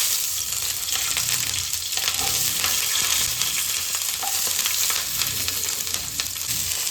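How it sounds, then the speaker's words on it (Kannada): Green chillies sizzling in a couple of spoons of hot oil in a pan, a steady, close, crackling fry that stays dense and even throughout with no talking. "ನಾನು ಹಸಿಮೆಣ್ಸಿಕಾಯಿ ಹಾಕ್ತಿದ್ದೀನಿ"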